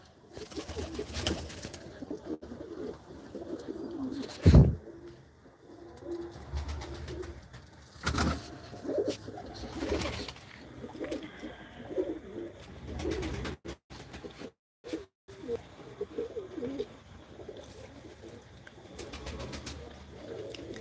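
Pigeons in their coop give soft, repeated coos close by, irregular and overlapping, with a few louder wing flaps and knocks among them and no talk.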